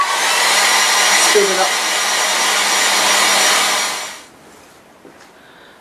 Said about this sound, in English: we can just take a hairdryer